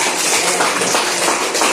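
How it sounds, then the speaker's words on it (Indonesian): Classroom applause from a group of students, a dense, steady wash of many hands clapping together at close range for a couple of seconds. "Tepuk tangan untuk kita semua."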